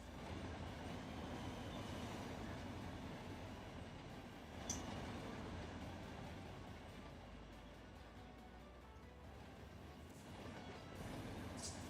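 A train rolls along in the Run8 railroad simulator game, a quiet, continuous rumble of wheels and cars with a faint squeal or two over a low, steady drone.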